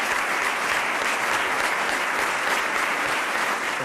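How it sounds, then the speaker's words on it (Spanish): A large audience at the 2019 Navia sports gala gives a sustained tribute applause, a dense, steady roar of clapping that holds at an even, loud level throughout. "Sirva este aplauso, por favor, como sincero homenaje para ellos, para Roberto y para Alberto."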